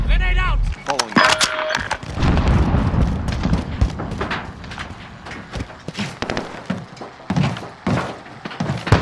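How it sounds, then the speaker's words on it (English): Grenade explosion in Call of Duty: Modern Warfare during a team deathmatch on the St. Petrograd map, heard as loud booms and thuds among gunfire and clatter, with players calling out over the action. "Grenade out!"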